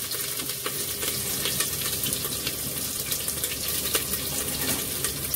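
Ginger paste and chopped green chili stir-fry in a pan, giving a bright, steady sizzle close up, with brief scraping clicks from stirring and no voices.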